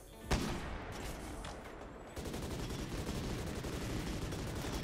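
Rapid gunfire in the video game Rimworld as colonists shoot at elementals: a dense, continuous crackle of overlapping shots after a sharp initial burst, steady and loud throughout, with no talking.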